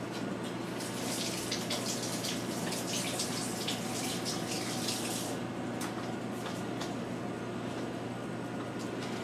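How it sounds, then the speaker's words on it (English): A hand is rinsed under a running kitchen tap, water pouring steadily and splashing close by for several seconds, with no speech. "Now I'm just going to rinse my hand."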